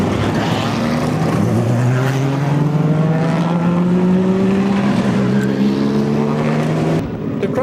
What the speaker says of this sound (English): the cars leave for the start of the Al Holbert GTP reunion and Thundersports race